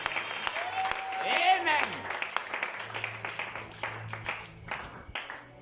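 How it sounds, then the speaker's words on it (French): A church congregation applauding during a service, a mid-distance patter of clapping swelling and fading beneath a preacher's voice, with shouts and talk running over it. "Est-ce qu'on peut plus acclamer pour le Seigneur?"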